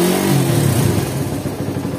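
A Suzuki Satria FU motorcycle engine in poor condition with many faults revs up loudly and close, then settles into a rough, uneven idle.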